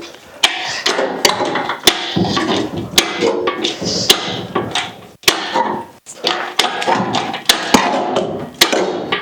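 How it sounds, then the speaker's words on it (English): A 289 engine scraping and knocking against the frame of a 1966 Ford Fairlane as it is hoisted out, giving loud, irregular clanks, bangs and grinding scrapes close by, with no talking. "we're scraping the frame, which doesn't matter because this thing's already busted up"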